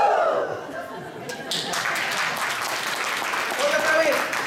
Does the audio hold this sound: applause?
yes